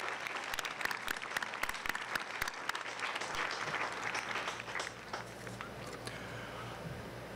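An audience at a high school graduation ceremony claps in a sustained round of applause, dense and steady at first, then thinning slightly toward the end, heard from within the crowd.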